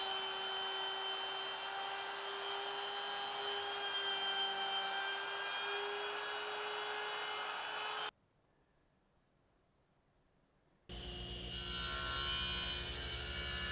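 A handheld router cuts dados into a wooden coffee table apron with a jig, a loud steady high-pitched whine that stops abruptly partway, followed by a few seconds of near silence before the motor noise returns.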